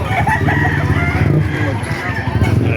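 Roosters and chickens at a live poultry market in Baliuag, Bulacan, with crowing and clucking over a busy crowd murmur, the birds close and fairly loud amid ongoing background chatter.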